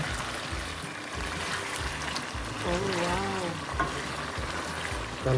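Green chilies and lemon leaves are stirred in a frying pan while cooking lemon pepper chicken: a soft, continuous sizzle with gentle spoon scraping, and a voice briefly heard midway.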